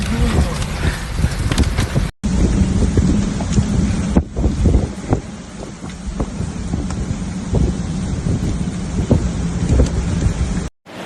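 A heavy thunderstorm lashing Lisbon, Portugal, with loud, steady rain and gusting wind buffeting the microphone, deep rumbles rolling underneath, and a couple of brief dropouts breaking the constant roar.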